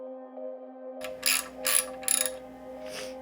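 A ratchet wrench loosens an oil pan stud on a B-series engine in an EF Civic chassis, giving three short bursts of clicking after a steady background hum.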